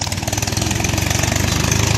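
A tractor engine running close by, a steady rhythmic chugging thump with a rough mechanical rattle, loud and continuous.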